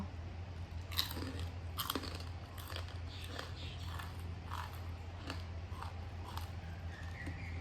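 Crunchy pork rinds being bitten and chewed alongside papaya salad, with crisp crackling bites recurring every second or so, close and fairly loud over a steady low background hum.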